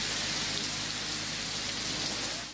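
Heavy rain pours in a stormy city downpour, a dense, even hiss of drops that stays constant and close throughout, then fades at the very end. No voices are heard.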